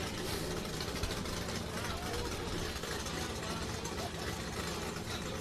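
An unmuffled race car engine runs close by at a motorsports finals event, a loud, raw, continuous rumble that fills the air with no break.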